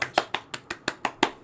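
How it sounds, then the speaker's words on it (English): Eight sharp, evenly spaced hand claps ring out close and alone, with a quiet room around them. "Round of applause."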